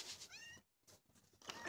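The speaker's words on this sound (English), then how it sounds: "That's one of our barn kittens." A barn kitten gives a couple of short, faint, high meows, separated by a brief quiet gap, close by with no talking.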